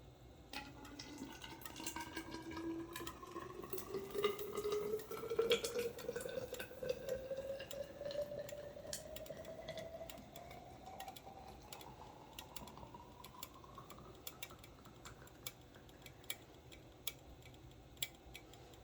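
Molten lead poured from a ladle into a deep drop fishing weight mould behind a splash shield, a faint rising hiss and sizzle with scattered ticks and drips, steady and close for several seconds.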